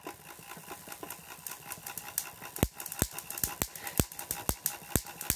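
Electrostatic generator motor running with a steady hum, then a series of sharp, loud spark cracks at roughly half-second intervals, close up.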